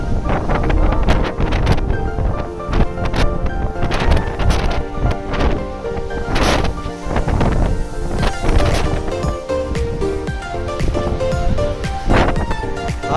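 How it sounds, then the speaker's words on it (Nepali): A sudden strong windstorm batters the microphone on a mountain road in Nepal, a loud continuous roaring rush with gusty swells and buffeting thumps throughout. "खतरा हावाहुरी लगाइदिएको एक्कासी"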